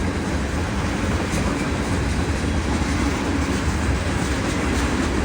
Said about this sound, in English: This is an eastbound train.